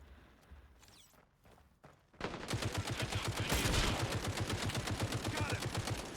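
Sustained automatic gunfire in the shooter game Caliber: a rapid, steady stream of loud shots that starts after a quieter stretch of scattered movement sounds and keeps going for several seconds.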